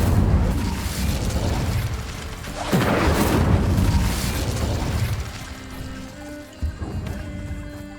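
An Incendio fire spell cast in Hogwarts Legacy bursts out as a loud whooshing boom, followed by a roaring, rumbling flame that fades and flares again, over a low game soundscape.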